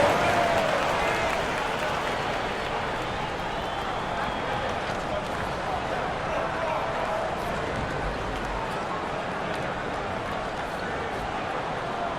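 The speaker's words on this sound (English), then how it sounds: "Give them a round of applause." Steady crowd noise with broad applause-like clatter fills the whole stretch, a dense arena roar at even loudness throughout, in an NBA Live basketball video game, Houston Rockets vs Miami Heat.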